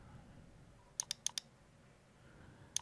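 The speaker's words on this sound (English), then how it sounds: "double click on it." Mouse button clicks in a quiet room: a quick pair of sharp clicks followed by another quick pair, then one more double click near the end, all close and crisp over a faint background hiss.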